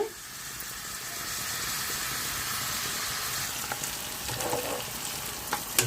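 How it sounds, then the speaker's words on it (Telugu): Onions sizzle softly in a pan for a Telugu dried fish and egg curry, a steady faint hiss with a few light scrapes near the end. "వేగిపోయినాయి అండి ఉల్లిపాయలు మెత్తగా అయిపోయినాయి"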